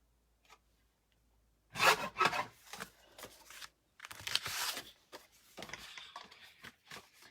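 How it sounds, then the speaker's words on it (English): Scissors or a paper trimmer cutting a couple of paper strips for a card-making project, heard as a few close, dry scraping cuts in short bursts separated by brief quiet gaps. "I'm going to cut a couple strips here."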